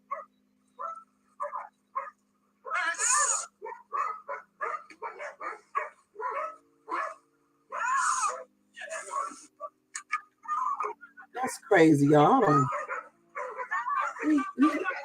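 Great Danes attacking a woman bark in scattered bursts, some loud and near, amid shouting and talking voices throughout.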